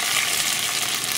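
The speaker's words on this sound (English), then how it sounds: "it says to saute these over medium heat for about 2 minutes, stirring quickly" Rehydrated onions from an Indian butter chicken take-out kit sauté over medium heat, a steady even hiss of frying, brief and uninterrupted.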